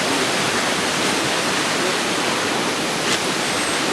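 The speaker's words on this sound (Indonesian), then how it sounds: "Kita melewati salah satu air sungai yang namanya Sungai Bahamblotu." Steady rushing of the Bahamblotu river flowing near a cave, a dense, even wash of water noise that holds at constant loudness throughout with no voices.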